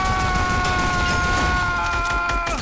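Gunfire in a video game, with rapid shots running continuously under steady electronic tones and a dense wash of noise, moderately loud throughout.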